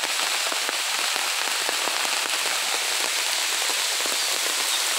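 Rain falling on a river and wet sand, a dense, even hiss of drops with scattered sharper crackling hits, steady throughout and fairly close, with no talking.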